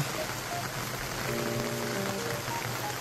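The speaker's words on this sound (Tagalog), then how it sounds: "mabuti po at nag-ambon-ambon dito ngayon. Ayan, oh, umambon po." Light drizzle falls outdoors near a banana plantation, a steady soft hiss of fine drops pattering on surfaces, even and continuous throughout, with no voices.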